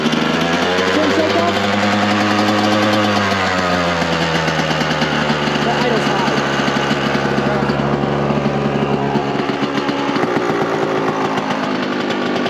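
A cold two-stroke engine, carbureted with a 30 pilot and 400 main jet, idling steadily with a slightly hanging idle; a loud, continuous buzzing drone close by, holding constant throughout with a small dip in pitch partway through.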